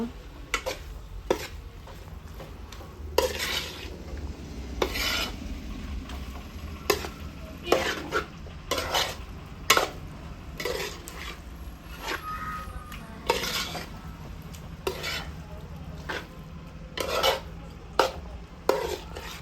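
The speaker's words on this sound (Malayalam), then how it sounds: "ഒന്ന് ഇളക്കുക" Pickle is stirred in a hot pan, a spoon scraping and clinking against the metal in repeated strokes over a continuous low sizzle, close and with no voices.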